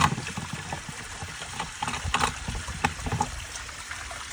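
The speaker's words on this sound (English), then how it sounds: "You'll probably notice some dirt and sand pouring out of there." Dirt, sand and water pour and trickle out of a pool filter, splashing unevenly with small irregular spatters close by.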